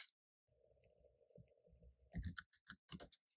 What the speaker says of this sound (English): Cut up the score line this side.